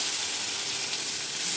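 Asafoetida and garlic-chili paste dropped into hot oil, a steady bright sizzle and hiss that holds even and fairly quiet for over a second, with no talking.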